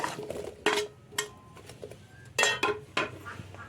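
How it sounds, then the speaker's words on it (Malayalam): Chopped yam and plantain pieces tumble into a cooking pan in several separate clattering drops, each a short, close knock and scrape, with quiet gaps between them. "നമ്മുടെ കഷ്ണമൊക്കെ മുറിച്ചിട്ടുണ്ട് നമുക്ക് ഇത് ചട്ടിയിലേക്ക് ഇടാം ചേന നേന്ത്രക്കായ"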